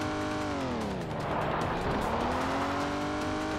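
Rally car engine in the game Old School Rally, a steady buzzing drone whose pitch dips then climbs as the car revs, with tyre noise underneath and no talking.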